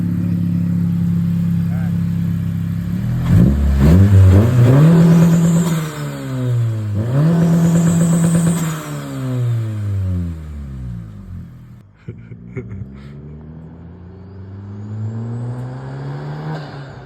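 A 10th gen Honda Civic Si fitted with a PRL big turbo kit and RV6 big turbo tune, suffering an intermittent smoking issue, revs up and down several times close by in rising and falling sweeps, with some talking over it.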